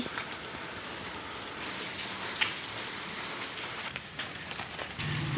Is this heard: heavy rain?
yes